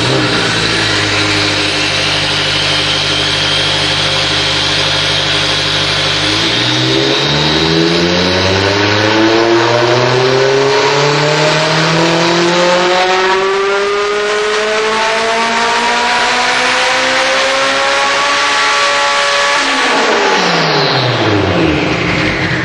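A tuned high-horsepower car engine revs hard through acceleration passes, its loud rising tone climbing steadily then dropping sharply and winding down at the end, with no talking.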